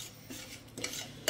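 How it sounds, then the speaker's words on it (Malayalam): Semolina (rava) roasting in ghee is stirred with a spoon, giving a few short, soft scrapes against the pan that end in one sharper scrape, fairly quiet and with no voices. "ചെറിയ രീതിയിൽ നമ്മൾ എന്തായാലും നെയ്യിലിട്ട് നിന്ന് വറുക്കുന്നുണ്ട്"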